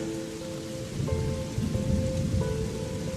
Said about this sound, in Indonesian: karena di luar hujan masih sangat deras.